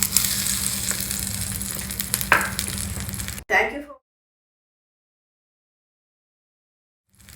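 Crackling, hissing sizzle of raisins frying in hot ghee, steady for about three seconds with a brief clatter, then cutting off into silence.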